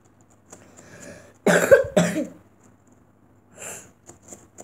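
A couple of harsh, close coughs burst out in quick succession, with quieter breathy throat sounds before and after.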